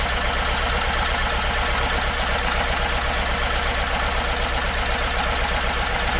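The engine of a Porsche 914 fitted with dual Weber carburetors runs steadily and loudly close by, a dense continuous drone with a fast rhythmic pulse and no voices.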